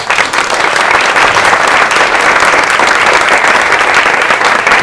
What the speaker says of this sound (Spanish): Un aplauso para Kerubín